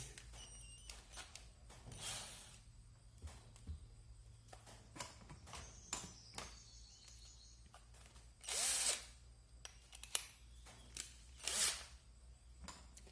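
Faint, intermittent bursts of an electric drill with a large drill bit whirring, mixed with scattered clicks and knocks in a quiet space.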